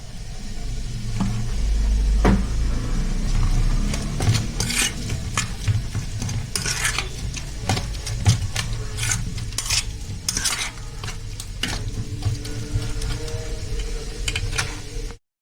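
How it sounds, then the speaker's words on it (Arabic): A spoon stirs a fish stuffing mixture with oil in a bowl for a baked tilapia sayadeya tray. The scraping and swishing run continuously and close, with occasional light clinks against the bowl. "هقلب بقى الخلطة دي كلها كده"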